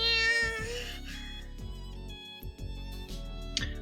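A voice imitates a kitten's mewing cry for the character Machina in the visual novel The Fruit of Grisaia. The high, wavering mews sound close and clear over steady background music with a pulsing low bass line.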